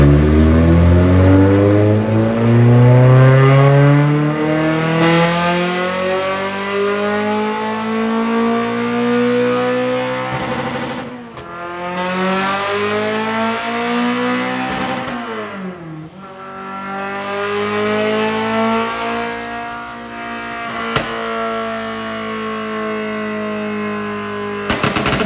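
A Toyota MR2 Spyder with a swapped JDM K24A engine running on a dyno, revving loudly and climbing repeatedly through the rev range with steady rising sweeps, close and alone.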